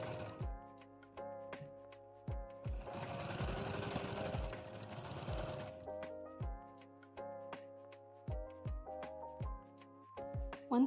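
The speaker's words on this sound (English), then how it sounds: "Then I'm going to pin and sew it down." Sewing machine stitching down a folded half-inch hem on a shirt sleeve, running in a sustained burst of rapid mechanical whirring between repeated short start-stop thunks and clicks, fairly close with no talking.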